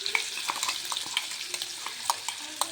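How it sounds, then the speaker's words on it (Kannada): Garlic tempering sizzles in hot oil in a pan, a close, steady hiss broken by sharp popping crackles and a few stirring scrapes, with no talking. "ಬೆಳ್ಳುಳ್ಳಿ ಒಗ್ಗರಣೆ ಕೊಡತ್ತೇನೆ ರೀ"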